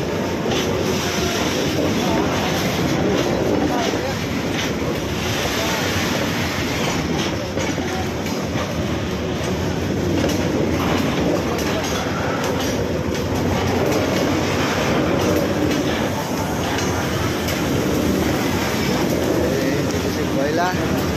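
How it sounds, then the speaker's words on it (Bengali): A coal train rolls past nearby with continuous loud rumbling and clattering wheels throughout, someone talking over it. "ট্রেন যাচ্ছে।"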